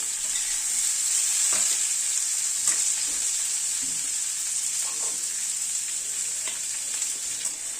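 Onions frying with potatoes in a pan, a steady loud sizzle running throughout with occasional soft stirring scrapes, close by and with no voices.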